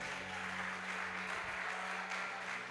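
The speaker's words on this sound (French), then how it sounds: "On acclame le Seigneur." A church congregation applauds in a steady, dense wash of clapping that holds evenly from start to finish.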